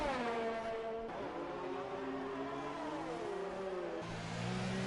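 Onboard a Red Bull Formula 1 car on a hot lap in practice at the Canadian Grand Prix, the engine whines steadily through shifting pitches as it accelerates and downshifts, loud and close throughout.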